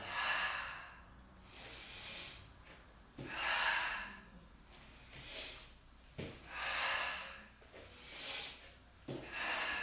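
Rhythmic breathing paired with squats, each inhale and exhale a clear airy rush, about five cycles at an even pace, close and moderately loud, with no voice.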